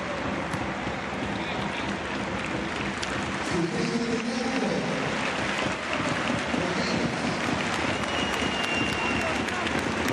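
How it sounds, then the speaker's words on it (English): Arena crowd applause fills a Basketball Champions League game between AEK and Pau-Lacq-Orthez as player Keith Langford checks out. The roar of clapping and cheering stays continuous and moderately loud, with voices blended into the noise. "huge applause for Keith Langford, who checks out"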